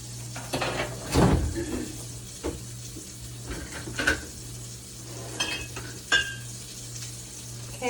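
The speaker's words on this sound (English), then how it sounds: "I'm going to toast my buns a little bit" Burger buns toast in a hot pan with a steady low sizzle, broken by several clinks and scrapes of a utensil against the pan.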